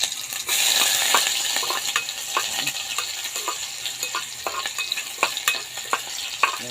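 Ginger and garlic sautéing in a pan give a steady close sizzle and frying hiss, with frequent quick clicks and scrapes of a utensil stirring throughout, and no voices.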